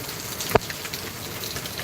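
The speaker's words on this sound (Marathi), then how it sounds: "हे बघा ना केवढा पाऊस पडतो" A downpour in Mumbai hisses and drums on surfaces in a constant wash of sound, with one sharp knock or clack standing out briefly near the start.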